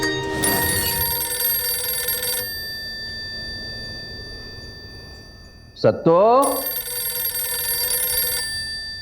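A telephone rings in a home in two long, loud bursts of trilling, and a voice calls out once briefly in the quiet gap between them.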